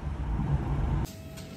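A bus idles nearby and then pulls away near the sea, a low engine rumble that cuts to a quieter tail after about a second.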